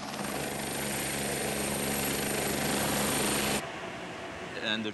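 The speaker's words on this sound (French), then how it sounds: "Le trafic d'hélicoptères continue d'augmenter ici?" Loud, steady whirring rotor and engine roar, close and continuous, cutting off abruptly near the end before a short bit of quieter activity.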